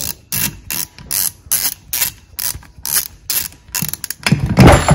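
A hand tool's ratchet mechanism turning out a bolt, with a rapid series of loud, close mechanical clicks and bursts in steady rhythm, ending in a denser rattling burst.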